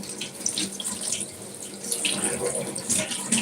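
Tap water runs steadily into a sink while fresh coriander leaves are rinsed, a continuous close splashing rush with no talk over it.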